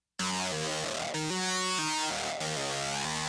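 Layered synthesizer tones play a stepping sequence of held notes, thick and buzzy, with no voices over it.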